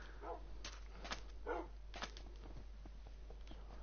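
Several short barks and yips from dogs in Minecraft, scattered and fairly close, over a low steady hum with no talking.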